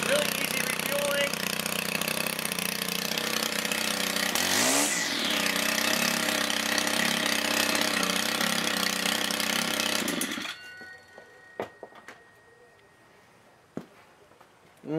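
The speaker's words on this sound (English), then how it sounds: "That is the Stihl FSR 130 string trimmer / brush cutter." A Stihl FS 130R string trimmer/brushcutter engine runs loud and steady close by for about ten seconds, with a brief rev sweep partway through, then cuts off, leaving faint clicks and handling noises.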